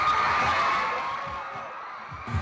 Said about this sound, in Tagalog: Paglabas ni David sa entablado, umalingaw-ngaw na ang sigawan ng mga tagahanga.